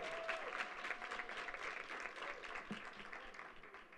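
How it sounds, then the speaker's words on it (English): An audience at a panel event applauds the moderator with continuous, dense clapping that sounds faint and distant, with a brief high whoop near the start. "Let's give our moderator a round of applause"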